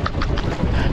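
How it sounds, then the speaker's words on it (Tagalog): Strong wind gusting over a small boat on the water, a loud continuous rumble and buffeting against the microphone, with no talk. "Lakas ng hangin."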